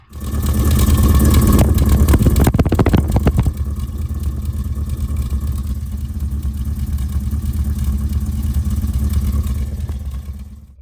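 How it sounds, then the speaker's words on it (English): A 1971 Datsun 1600SSS four-cylinder engine idles with a low, throaty exhaust rumble, briefly revving at the start before settling into a steady drone. "for a four-cylinder car that has a bit of a throaty sounding exhaust"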